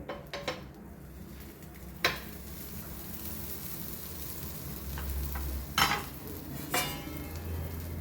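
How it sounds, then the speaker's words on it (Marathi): A sandwich toasting in a pan after being flipped, a quiet steady sizzle under occasional clinks and scrapes of a spatula and plate, close by with no voices. "तर याप्रमाणे आपण अलगद असं हे सँडविच पलटवून घेऊ"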